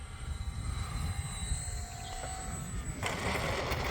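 A Bearcat model airplane drones steadily on its landing approach with a little power held on, the engine a continuous buzzing whine at moderate distance that swells into a brighter, rougher rush near the end.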